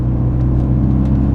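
A Ford Focus ST engine holds around 2000 RPM, a loud, steady low rumble with a smooth whir, brief and without voices.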